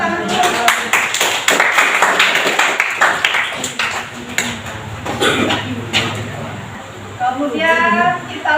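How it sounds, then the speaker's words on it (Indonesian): Students clapping together in a classroom, a burst of sharp, close hand claps for several seconds that thins out, followed by voices talking in the room. "Tepuk tangan dulu."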